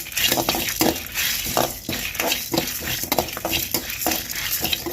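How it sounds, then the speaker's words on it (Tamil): Black pepper, cumin and dried red chillies dry roasting in a pan, with a spoon scraping and tossing them in repeated rhythmic strokes over a faint sizzle, fairly close and with no talk. "கொஞ்சமாக மிளகு நாலு வரமிளகாய் எல்லாத்தையும் போட்டு நல்லா வறுத்து எடுத்துப்போம்"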